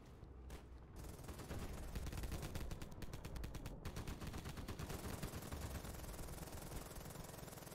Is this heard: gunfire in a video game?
yes